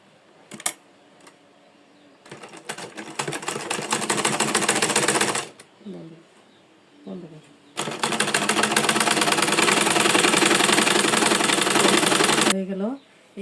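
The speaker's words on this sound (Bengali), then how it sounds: "এখন আমি সেলাই করব।" A sewing machine stitches an old lungi into a petticoat, running in two long, rapid, loud bursts of mechanical clatter separated by short pauses with faint handling noises.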